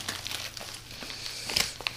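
A knife slicing through heavy packing tape on a parcel sent from the UK, giving close, crinkly crackles and short tearing rasps, sharpest near the end.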